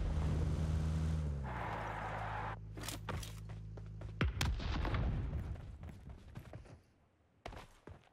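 Gunfire in the mobile battle royale game PUBG Mobile: a steady engine-like drone gives way to several sharp, loud shots and cracks, some in quick succession, followed by scattered thuds and fainter bursts as things quiet down.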